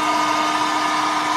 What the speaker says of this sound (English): Let's get our hair dryer.